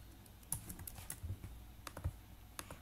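Fingers tap code into a computer keyboard during an HTML, CSS and JavaScript coding session, a quiet, irregular patter of soft keystrokes with a few sharper clicks.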